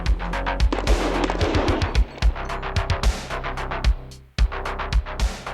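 Rapid pistol and rifle gunshots at a tactical shooting match stage, loud and close, fired in quick bursts and doubles with short pauses between strings.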